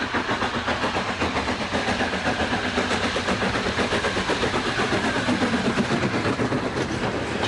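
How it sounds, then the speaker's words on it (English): A Black 5 steam locomotive overtakes an 8F freight locomotive at Winwick Junction, giving a steady, loud rumble of rolling wheels and rail clatter that carries on throughout. "In our final view at Winwick Junction, a Black 5 overtakes an 8F."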